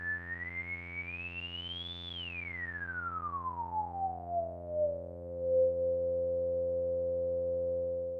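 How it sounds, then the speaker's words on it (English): A Behringer 1047 multimode filter in limit mode gives a clean, quiet synth tone whose pitch sweeps upward and then glides smoothly down before holding steady, heard alone without distortion. "When we switch to limit mode, the filter internally tames its circuits and prevents distortion."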